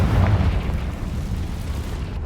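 Confringo fire spell explodes in Hogwarts Legacy, a single heavy boom with a deep rumbling tail that fades over a couple of seconds, loud and close with no voices.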